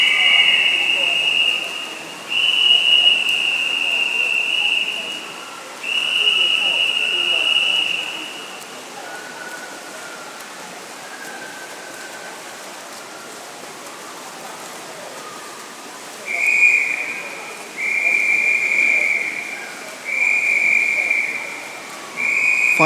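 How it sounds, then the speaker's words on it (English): Long, piercing whistle blasts sound repeatedly at a swimming heat in a masters long course championship. They ring out over a constant splashing wash of pool noise, with a voice faintly underneath. "Final whistle of heat 7 as the Camden Swiss Cottage swimmer Chris Ho"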